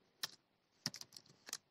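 Typing on a computer keyboard during data analysis work in Python, a few quick clusters of crisp key clicks separated by short pauses, close but quiet, with no voices.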